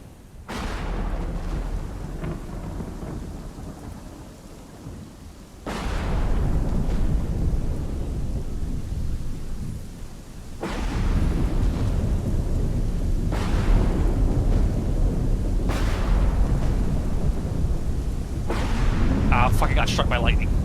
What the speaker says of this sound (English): I got struck by lightning.